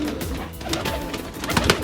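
Walai pigeons cooing in Kashmir, soft layered coos and bird calls running steadily throughout, with denser, louder calling near the end and no talk.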